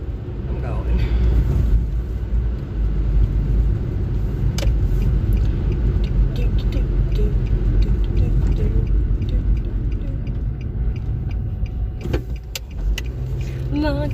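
Steady interior road rumble from a car driving along, loud and constant throughout, with a few faint clicks and a brief thump near the end.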